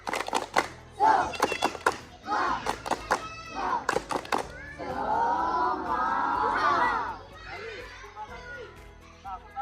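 Children at a school physical education lesson do a rhythmic spirit clap, sharp claps in patterned bursts mixed with shouted chanting, followed by a stretch of excited group voices.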